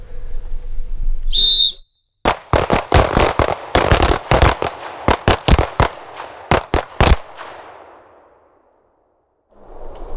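A string of pistol shots fired on a range during a Green Beret-led handgun session, about a dozen sharp, loud reports in an irregular rapid series, each ringing briefly, with no talk between them.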